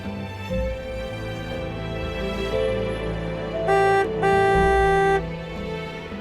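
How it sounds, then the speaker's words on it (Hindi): A car horn blares twice from nearby, one long honk and then a longer one, over a steady hum of music. "ऐसे कौन हॉर्न बजाता है? पूरे मोहल्ले में शोर मचाया हुआ है।"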